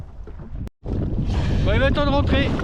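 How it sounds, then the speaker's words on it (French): Wind rising over the sea, gusting across the microphone on a boat while fishing for sea bass, a steady rushing buffet broken by a brief dropout, with a faint voice-like tone under the noise. "Le vent se lève."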